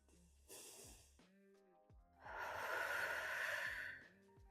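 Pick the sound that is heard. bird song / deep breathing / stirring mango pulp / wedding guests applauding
deep breathing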